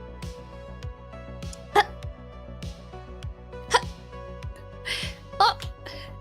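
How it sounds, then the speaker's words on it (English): Sharp hiccups recur about every two seconds from a person close to the mic, each a short abrupt catch above steady low background hum. "I have the hiccups"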